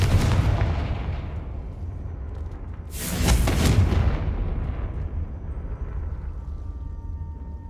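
A Confringo fire spell in Hogwarts Legacy on PS5 bursts with a loud explosive boom about midway, over a constant low rumble of combat noise, then trails off into a fading roar.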